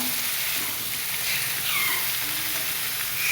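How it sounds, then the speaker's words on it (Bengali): Vegetables for a fish curry frying in a pan, producing a steady close hiss and crackle of hot oil with occasional stirring, no voices over it. "তো আনাজগুলো একটু ভাজা ভাজা হয়ে যাক"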